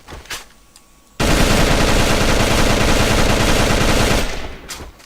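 M16A2 rifle in the shooter game AVA firing one sustained automatic burst of about three seconds, loud and close, with a few faint clicks before and after.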